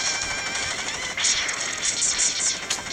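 Rapid, continuous blaster shots in the Mega Man X intro stage, a dense chiptune-style stream of bright repeated firing over game music, steady and loud with no pauses.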